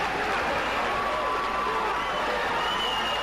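Boxing arena crowd in upstate New York roaring for local fighter Mike Tyson, a dense, steady wall of cheering and noise held at full level throughout, with a commentator's voice faintly under it.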